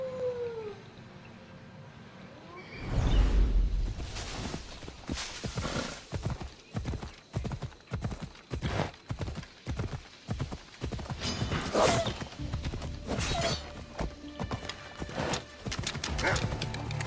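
Hooves of a horse galloping in the video game Assassin's Creed Odyssey, beginning with an abrupt thump and then a fast, steady clip-clop rhythm close up over a faint background.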